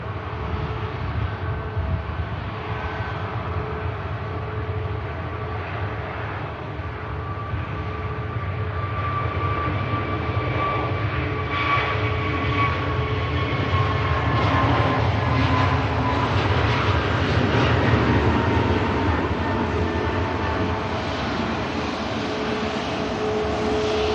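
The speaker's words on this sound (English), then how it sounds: "Ryanair taxiing by is off to Pisa in Italy" A Ryanair airliner taxis past at Manchester Airport, its engines giving a steady, loud rumble with a whining tone that slowly rises and swells throughout.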